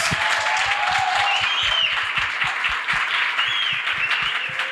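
An audience gives a round of applause at a talk event, steady loud clapping from many hands that carries on evenly throughout and fades slightly at the end.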